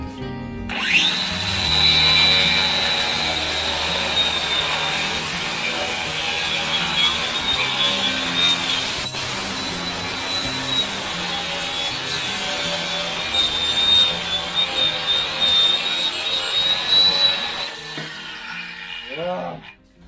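DeWalt DCG440 60V FlexVolt 7-inch 180mm cordless grinder cutting under load, a loud continuous whining grind close by that holds steady for most of the span before spinning down at the end.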